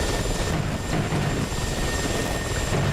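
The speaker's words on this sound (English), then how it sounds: "Here comes another Mi-24." Mi-24 attack helicopter in the DCS combat flight simulator during a PvP event, a loud, dense rotor and engine roar holding steady throughout.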